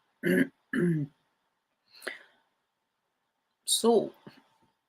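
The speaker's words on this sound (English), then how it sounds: "it's impossible, this cough." A few separate coughs and throat-clearing bursts, close and harsh, spaced apart by silence, with a single spoken word near the end.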